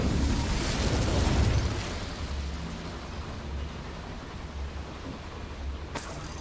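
An Incendio fire spell blasts in the video game Hogwarts Legacy, a loud roaring whoosh of flame that swells at the start and then settles into a sustained rumbling burn, with a brief sharp crack near the end.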